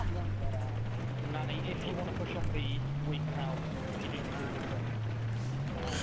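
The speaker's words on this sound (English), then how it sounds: "Chopper coming, chopper coming." A helicopter approaches in a video game as a low, droning engine tone that rises and falls in pitch over a dense, continuous rumble, heard fairly faintly.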